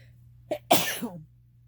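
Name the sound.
sneeze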